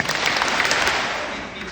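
Audience clapping at an activist gathering fills the space as dense, loud, continuous applause rather than three distinct claps, with a possible voice mixed in.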